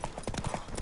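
Horse hooves pound in a quick galloping patter in The Witcher video game, close and moderately loud, lasting under a second.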